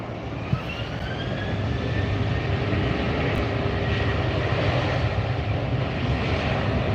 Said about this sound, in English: There goes Viva taxiing up as the Southwest departs.